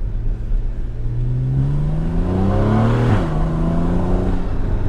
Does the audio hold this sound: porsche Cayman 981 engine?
yes